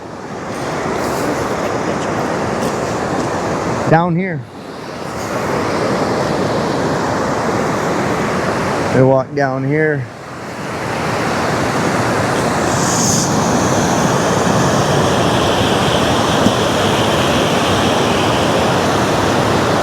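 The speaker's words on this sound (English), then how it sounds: "Look here, look at this river." A mountain river in Albania rushes down from switchbacks in a loud, continuous roar with wind buffeting the microphone. A person speaks briefly partway through.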